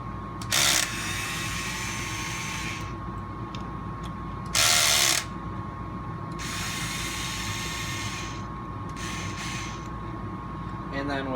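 Screws being removed from the side tray of an RC crawler chassis, with two brief ratcheting tool bursts standing out over a quiet room hum and soft background noise.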